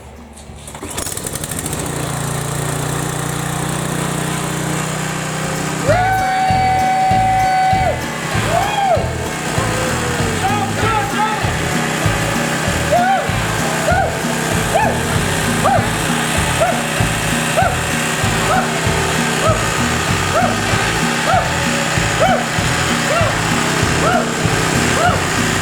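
Briggs and Stratton small engine running after a governor and oil slinger gear repair: it cranks, catches and settles into a steady, loud, close idle with a regular throbbing pulse for the rest of the clip.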